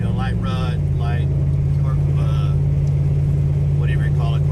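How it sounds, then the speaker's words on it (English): Steady low engine drone and road rumble inside a Ford truck rolling over small rocks, light ruts and corrugations on a Wyoming country road, continuous and close, with someone talking over it throughout. "how it looks and feels in this truck on this country road"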